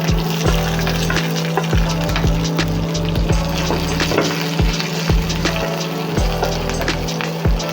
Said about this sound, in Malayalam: ചുവന്നുള്ളി, പച്ചമുളക്, വെളുത്തുള്ളി, വേപ്പില ഇട്ട് കൊടുക്കാം.